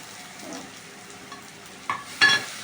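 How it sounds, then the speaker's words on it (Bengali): Ginger and garlic frying in a pan while cooking a turkey chicken curry, a soft low sizzle with quiet stirring scrapes, building to two brief louder bursts of hissing near the end. "এর মধ্যে এবার আমি আদা রসুন অ্যাড করলাম"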